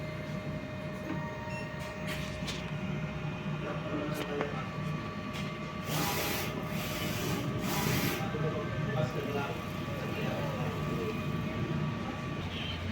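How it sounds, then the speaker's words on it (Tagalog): DTF printer running a nozzle test, a quiet mechanical whirring with the print head shuttling and a few spraying bursts midway, heard faintly in a room with a low steady background hum. "Nozzle test."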